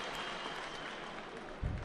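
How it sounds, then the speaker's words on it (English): The crowd at the 2016 judo Grand Prix in Tbilisi claps in a diffuse arena wash heard from a distance, ending with a brief low thump. "A round of applause."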